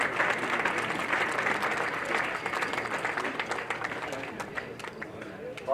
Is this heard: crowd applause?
yes